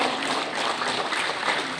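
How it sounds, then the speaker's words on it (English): Audience applause at a public event rises as a dense, continuous wash of clapping, steady and fairly loud for the short moment with no distinct voices. "A huge round of applause for"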